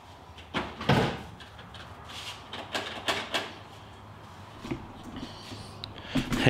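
The cab door of a 2021 Silverado 2500 undergoing teardown, pinched after the lock was cut out, is worked open with a series of scattered metallic clunks and knocks, some sharper thuds, over quiet shop background.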